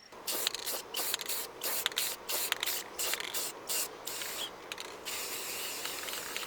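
Aerosol spray paint hissing onto skid steer quick attach welds, close and loud in a rapid series of short bursts with brief gaps, then a longer steady spray near the end.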